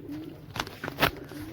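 Pigeons in a pigeon house give a few soft, close coos, three short bursts spaced across a quiet background.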